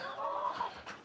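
A rooster on a small farm with a flock of chickens gives a short, close call lasting about a second, loud and clear against quiet morning surroundings.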